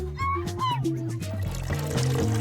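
Coke gushing and flooding a room inside a mystery-buttons escape video game, a continuous liquid pour and splash running the whole time under bright, tonal game music.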